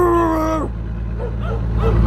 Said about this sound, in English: Watch out! Dog!